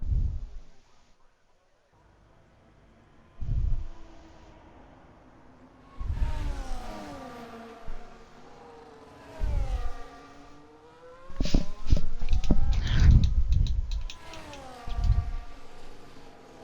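Race cars in a Bahrain sim-racing replay accelerate out of the pits, each car's engine rising in pitch through its gears. Revving bursts come and go, then several cars overlap into a sustained, loud roar near the end.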